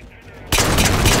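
Rapid gunfire from the video game Halo 4 bursts in abruptly halfway through, loud and dense after a quieter stretch of game ambience.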